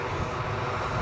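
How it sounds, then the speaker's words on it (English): British Airways Embraer jet on final approach into Edinburgh, inbound from London City; a steady, fairly loud broadband engine roar fills the whole brief moment without pause. "British Airways are too far into finals now with their inbound Embraer flight from London City"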